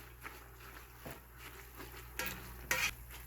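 Spinach is stirred in a pot with soft scraping and rustling, joined by faint sizzling and two sharper clinks of a utensil against the pot near the end.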